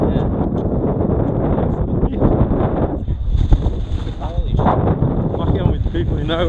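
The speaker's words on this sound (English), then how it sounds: "Yeah, it's so windy." Strong gusting wind in a snowstorm on a ski mountain buffets the microphone in loud, rumbling surges, with people talking over it.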